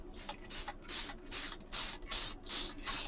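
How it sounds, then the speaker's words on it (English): A pump spray bottle of stain fires seven quick hissing bursts onto a sheet of paper in a steady rhythm, close by, with brief pauses between each spritz. "this is a spray stain. And I just spray a little bit on a sheet of paper here"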